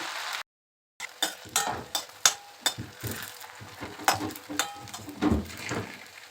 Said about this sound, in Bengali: ভেজে নিচ্ছি এগুলো কন্টিনিউ নাড়িয়ে যেতে হবে তা নাহলে লেগে যাবে পুড়েও যাবে